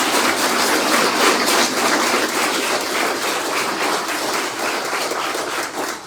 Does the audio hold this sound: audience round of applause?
yes